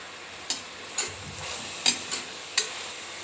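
Drumstick leaves being stirred in a hot pan for a pulao, with a soft background sizzle and five sharp scraping stirs spaced about half a second apart, close and moderately loud.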